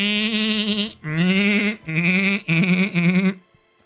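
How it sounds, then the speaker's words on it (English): Sheep bleating in Nier Replicant: several loud, close, wavering bleats one after another with short gaps between, heard on their own without speech. "Now we need to kill the sheep."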